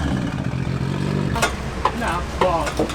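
Nissan R34 GTR engine revving through a titanium exhaust, loud and close, with a steady rumble broken by several sharp rev bursts while people talk over it.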